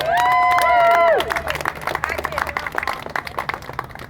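Audience clapping and cheering breaks out after a harmonic shout or cheer, a dense crowd applause that continues steadily with scattered whoops and voices mixed in.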